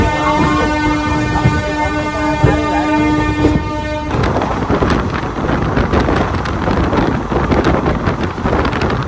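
The Kalka Mail pulls out of Howrah station. A long, loud train horn blares for several seconds, then gives way to the steady rumble and rhythmic clatter of the moving carriages, heard from on board.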